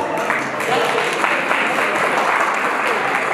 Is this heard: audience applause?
yes